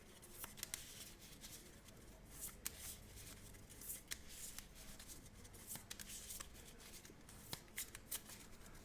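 Playing cards being shuffled during a Marvel Champions card game, a steady riffling texture with crisp snaps and taps, fairly quiet and close, with no talking.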